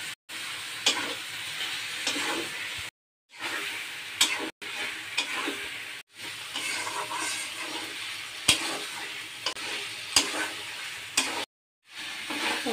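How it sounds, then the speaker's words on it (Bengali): Pointed gourd frying in mustard paste in a pan, a steady sizzle broken by spoon stirring and scraping, with a few short silent gaps. "এখন আমি দিয়ে দেব পটল দিয়েও আমি আবারও কষিয়ে নেব"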